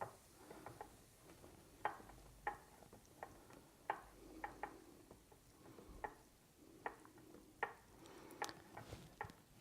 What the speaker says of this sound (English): So I'll stir this up.